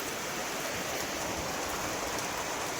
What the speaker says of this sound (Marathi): सकाळ सकाळचा पाऊस